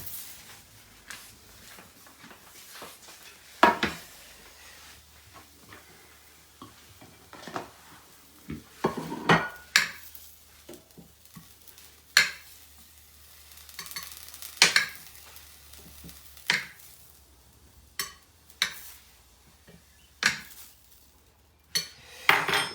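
White asparagus is lifted out of a frying pan after browning: repeated clinks and scrapes of a utensil against the pan over a light sizzle, close and fairly loud, with no talking.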